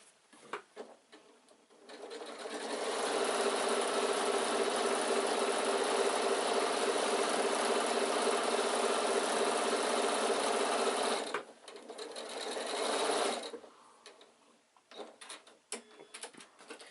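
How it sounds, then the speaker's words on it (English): A sewing machine runs a long steady stitch down the side seam of an insulated picnic bag, a close, even motor whir lasting several seconds, then a brief second burst, with small handling noises before and after. "get it under your machine. And then sew down all the way down your side seam"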